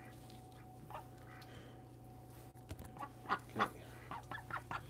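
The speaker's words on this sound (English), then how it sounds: "These ducks this year on staying inside" Ducks staying inside a barn in winter give a few scattered quacks and honks over a constant low electrical hum, growing busier and louder toward the end; a person speaks one brief word.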